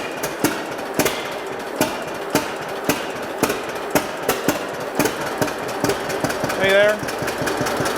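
A 1949 John Deere Model A tractor engine running with a faulty carburetor, sharp regular knocking beats over a rough steady rumble, close and loud, with someone briefly speaking over it.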